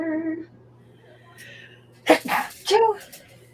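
A person sneezes sharply and close in a quiet room, a breathy build-up then the burst, after a brief voice and a faint hum beforehand.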